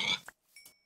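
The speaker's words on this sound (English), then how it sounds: "I'm just gonna kill these pigs that, like, just spawned" A Minecraft pig gives a couple of short, close grunting oinks, clear and alone with brief high game sounds between them.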